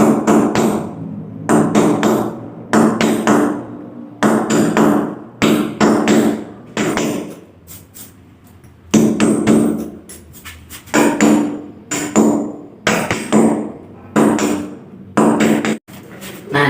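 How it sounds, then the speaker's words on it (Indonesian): A hammer drives a nail into ceramic tile before drilling, dozens of sharp metallic taps in quick bursts of three to five strikes, separated by short pauses, loud and close. "Nah, ini akan saya paku terlebih dahulu."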